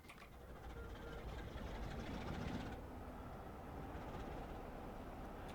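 A diesel locomotive engine in Train Sim World 5 on the East Coast Main Line runs with a steady, loud low rumble, idling evenly and continuously throughout with no talk.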